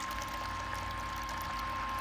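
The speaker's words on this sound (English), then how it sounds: "we are putting it into the fermenter" Chilled homebrew wort for a Cascade and Citra pale ale, at about 68 degrees, runs into a fermenter in a continuous, even rushing pour with no talking over it.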